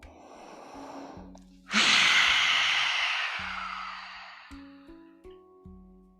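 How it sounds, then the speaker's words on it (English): A long, loud cooling breath exhaled through the mouth with the tongue out during a yoga flow, a broad airy rush that starts suddenly and slowly fades, with soft breathing before it and quiet tones after. "Cleansing, cooling breath"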